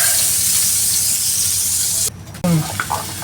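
Butter sizzles steadily in a hot pan while being sautéed, a bright continuous hiss that cuts out briefly near the end before a few spoon and pan clinks return.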